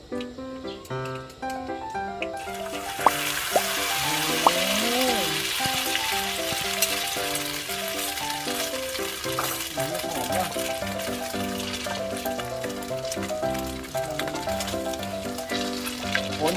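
Water hits a hot pan while cooking a Thai fried-egg omelette with rice, bursting into a loud, continuous sizzling hiss a couple of seconds in that keeps going under steady background music.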